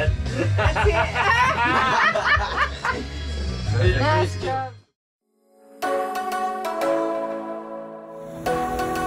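A dog on a sailing boat barks and yips repeatedly and loudly up close for several seconds, then after a brief silence a second stretch of whimpering, harmonic yelps follows.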